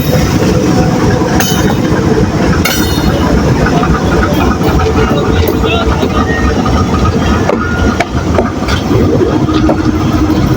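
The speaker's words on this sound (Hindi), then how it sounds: "36008 के साथ डिपार्ट कर रही है जी 16 डाउन कराची एक्सप्रेस, और ये भी ओवरटेक करके जा रही है" Pakistan Railways 16 Down Karachi Express pulling out of a station behind a diesel locomotive, a loud steady rumble of wheels and carriages with clattering rail noise, brief squeals and people talking nearby.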